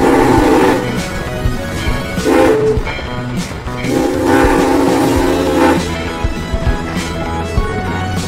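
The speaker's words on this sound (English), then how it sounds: "This is a steam train." A steam train in Chehalis, Washington, sounding its horn in several long, loud blasts separated by short gaps, with rumbling and clanking from the train underneath.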